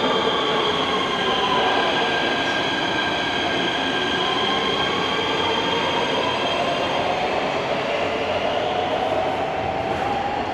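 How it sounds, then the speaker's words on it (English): A train rolls into a station in Fürth, Germany, with a steady loud rumble and drawn-out squealing wheels, sustained and close, no voices. "Okay guys, this is the train."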